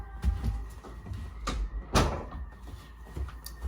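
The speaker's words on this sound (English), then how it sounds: "I'm going to close the door." An indoor door being shut, a couple of soft knocks and a firmer clunk of the door closing against its frame, fairly quiet with room noise around it.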